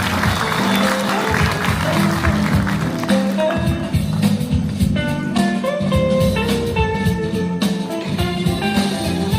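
Audience applause welcoming the co-chair of the Daejeon–Chungnam administrative integration council at a town hall meeting, dense clapping sustained throughout with loud tonal fanfare music playing underneath.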